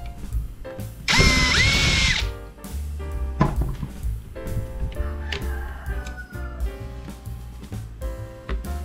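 A power drill whines loudly for about a second, a steady high-pitched motor run, followed by clatter and fainter tonal mechanical sounds, with no speech.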